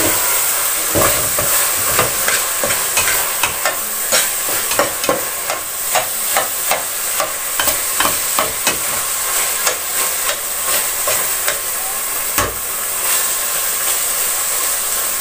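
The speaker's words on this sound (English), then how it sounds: "See, now it starts nicely roasting." Bolognese sauce sizzles and roasts in a large pot while being stirred, a steady loud hiss broken by frequent scraping and clinking stirring strokes, close up, with no talking.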